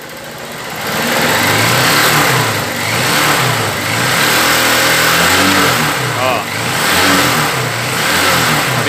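A 2007 Honda CG 150 ES motorcycle with a battery-draining electrical fault idles, then is revved in repeated swells, its mid-pitched engine loud and near while someone talks over it.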